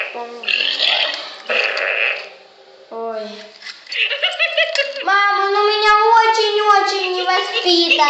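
A Furby toy makes a loud electronic burping sound, followed by squeaky bleating toy noises and tonal warbles, close and filling the whole stretch.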